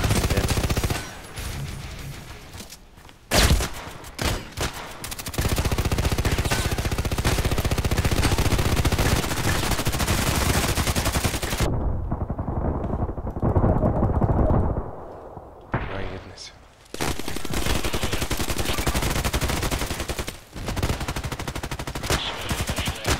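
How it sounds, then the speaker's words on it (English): Grenades and rapid gunfire erupt in the online shooter Contract Wars: dense bursts of automatic fire and sharp blasts, loud and close, with a brief near-silent gap midway before the shooting resumes. "Grenade, grenade, and shootings."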